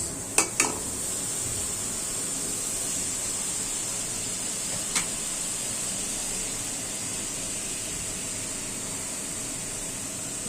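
Onions, cut fairly thick, sizzling steadily in hot oil in a home kitchen pan, a constant bright frying hiss with a few sharp clinks near the start and one brief tap midway.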